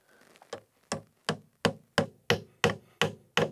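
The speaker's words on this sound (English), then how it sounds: "I'm gonna take a hammer." Nine sharp, evenly spaced hammer strikes ring out one after another, each a crisp metallic knock as nails are driven into a pipe clamp on polybutylene pipe, close and fairly loud.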